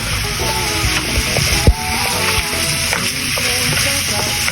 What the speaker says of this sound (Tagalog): Haluin natin ang ating giniling